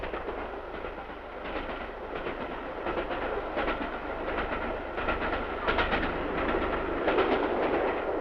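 A 1954 Elizabethan express train runs steadily on rails, a continuous rumble with rhythmic clickety-clack of wheels over rail joints, close and fairly loud throughout.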